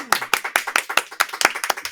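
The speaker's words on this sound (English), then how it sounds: "Let's all welcome and give a very warm round of applause to Mr." A round of applause greeting a speaker: crisp, close hand claps in a quick, even rhythm, about ten sharp claps in two seconds, with no talking over them.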